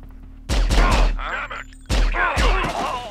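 Pistol shots in the third-person shooter Psi-Ops, several sharp booming cracks in quick pairs with grunts and game effects between them, loud and close over a low hum, while someone talks.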